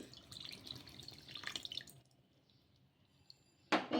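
Half a cup of water pours into wheat rava and curd batter for about two seconds with a soft splashing trickle, then quiet follows before a brief louder rustle at the end.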